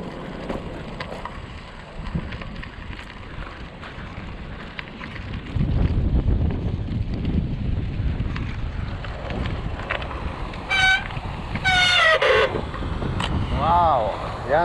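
Strong wind buffets the microphone on a windy, choppy seashore during a long-distance group bike ride, a constant roaring rumble with a burst of distant voices and a high whistle-like sound near the end.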